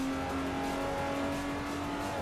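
Car engine in the Forza 4 racing game held at a steady high whine with a sustained tonal drone as the rear slides out in a drift, continuous and fairly loud with no talk.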